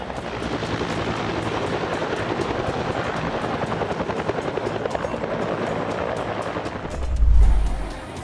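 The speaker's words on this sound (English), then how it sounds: "The UH-1 helicopter landed hard due to a tailwind." Loud, continuous UH-1 helicopter rotor roar close by, steady throughout, ending with a heavy low thump as it lands hard in a tailwind before the noise drops.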